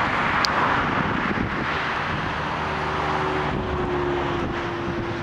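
An Ethiopian Airlines Boeing 787-8 Dreamliner takes off, heard from a distance as a fairly quiet, steady engine roar mixed with wind noise, with a faint tone slowly shifting.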